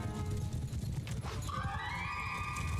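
A horse in Mount & Blade II: Bannerlord whinnies in a rising, drawn-out neigh over a dense battle din of low rumble and clatter, fairly loud and sustained.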